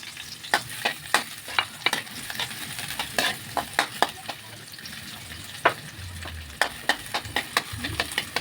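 Onion and garlic stirred in a hot frying pan, with a steady background sizzle broken by repeated sharp scraping and clinking strokes of a utensil against the pan at an uneven rhythm.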